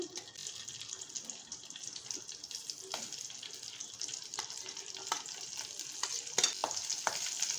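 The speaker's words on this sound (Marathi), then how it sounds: "आता आपल्याला या भाज्या सॉटे करूया फरसबी" Green beans sauté in oil in a kadhai with a soft, steady sizzle. Occasional sharp scrapes and clinks come from a spatula stirring them, fairly close and quiet.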